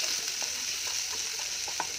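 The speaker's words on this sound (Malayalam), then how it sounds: "1 വലിയ സവാള ചെറുതായിട്ട് കട്ട് ചെയ്തെടുത്തതാണ്, അത് ചേർത്ത് കൊടുക്കാം. ഇനി നമുക്കൊന്ന് വഴറ്റിയെടുക്കാം." Chopped onion being sautéed with fried soya chunks in a pan, a steady soft sizzle with faint intermittent stirring scrapes, no voices.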